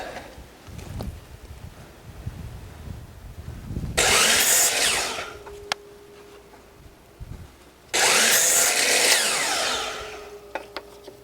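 Power saw cutting pine boards to size, two loud bursts of about four and three seconds each, separated by quiet shop noise and a short winding-down hum after each cut.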